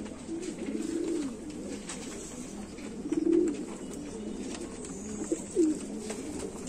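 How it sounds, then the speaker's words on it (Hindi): Sheikho breed pigeons, crossed with Chanda Khani blood, coo softly and repeatedly in low rolling phrases close to the microphone, with no speech. "ये कबूतर का शौक करवा रहे हैं जी"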